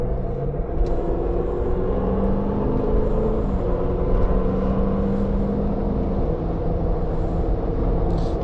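A Range Rover L322 with a 4.4 TDV8 diesel on all-terrain tyres drives along a back road, its engine and tyre roar a steady, close, continuous rumble from the cabin with no talking.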